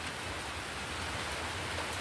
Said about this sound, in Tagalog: Ulan, no? Tag-ulan na naman.